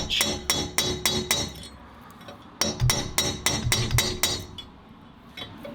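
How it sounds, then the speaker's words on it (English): Hammer blows on a metal punch driving out a broken cylinder head exhaust stud bolt, two bursts of sharp, ringing metallic strikes in quick steady succession, close and loud with short pauses between runs. "I'm wondering if I can punch the rest of that bolt out"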